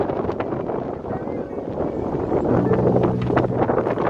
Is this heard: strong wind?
yes